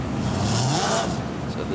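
Midget race cars roll around at low speed under a caution lap in a COVID Cup feature race, a rough engine drone with passing whines, while a commentator talks over it.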